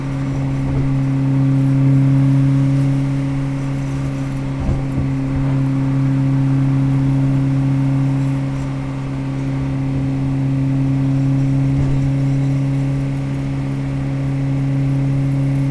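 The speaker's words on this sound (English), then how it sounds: "driving on the interstate" A 700hp Honda S2000 cruises at steady speed on an interstate, giving a constant low engine drone with a strong steady hum and faint road rattle, without anyone talking.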